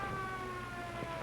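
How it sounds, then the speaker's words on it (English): An emergency siren sounds outside a small town's office and emergency hospital, a steady faint wail with a hissy, noisy background. "we heard a siren outside."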